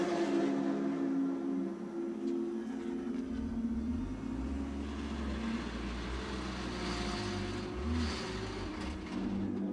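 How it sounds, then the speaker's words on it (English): A motorcycle with a gear selection problem in the pit lane at the Sachsenring during qualifying, a low, uneven engine idle and rumble with small revs and a wavering tone, fairly close and continuous. "Stefan Raykopf back into the pit lane, sounding like he's struggling to select first gear."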